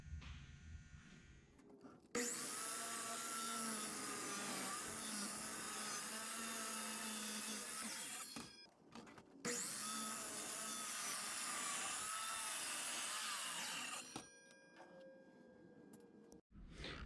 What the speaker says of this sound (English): we can run it through the planer and get it prepping for finish